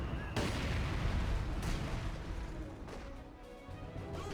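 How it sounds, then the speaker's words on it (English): Mortar and artillery fire in Company of Heroes 2, with a Soviet mortar among the guns: a sustained rumble of blasts and impacts, with sharp bursts near the start and again around a second and a half in. "Looks like a Soviet mortar has come on out as well."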